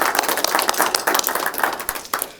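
An audience claps for city traffic safety staff at a Vision Zero summer safety campaign kick-off: a short burst of brisk, irregular hand claps from a modest group, fairly close and fairly loud, with no talk.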